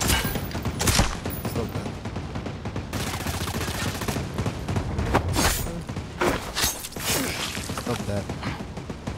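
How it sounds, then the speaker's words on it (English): Heavy gunfire fills a Ghost Recon firefight, with rapid bursts and sharp single shots cracking loud and close, while a player speaks briefly over the shooting. "That they're shooting me."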